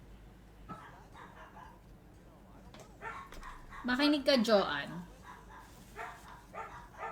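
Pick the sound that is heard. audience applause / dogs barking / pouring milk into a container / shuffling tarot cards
dogs barking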